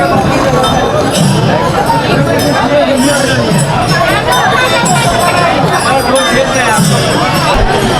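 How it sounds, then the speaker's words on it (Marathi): A dense crowd of pilgrims at the Pandharpur temple, with constant loud babble of many voices, shouts and clinks close around on all sides. "काहीच गर्दी बघा, तिकडपर्यंत गर्दी आहे"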